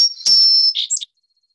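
A song sparrow sings one short phrase, a clear sustained whistle followed by quick buzzy trills and chips, crisp and fairly close, then silence.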